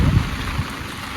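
Steady hiss of heavy rain falling, with a low rumble underneath and no voices, brief and continuous.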